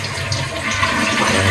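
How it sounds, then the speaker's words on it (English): A toilet tank flushes with a loud, rushing gurgle of water through the whole short burst, close by and with no voices over it. "And then you kind of flush the tank."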